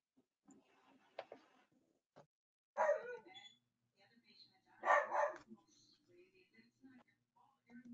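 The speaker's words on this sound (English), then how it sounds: "Oh, somebody got a dog." A dog barks in the background during an online community board meeting, two louder bursts of barking standing out amid quieter household noise and faint talk.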